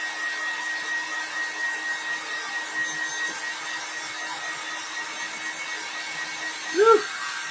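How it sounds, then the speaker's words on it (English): A handheld hair dryer runs steadily indoors with an even airy whir and a constant hum, holding at the same level from start to finish, with a brief louder bump near the end. "If I can reach my dryer."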